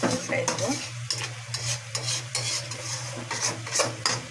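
Shing fish turned over in a dry mustard curry sizzling in a pan, with a steady frying hiss broken by several scraping, clattering strokes of a spatula, close and fairly loud.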